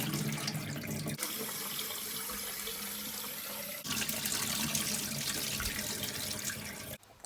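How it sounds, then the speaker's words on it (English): Water runs steadily from a tap into a sink while lentils are rinsed, with a brief shift in the splash partway through before it cuts off. "just do it until the water kind of runs clear"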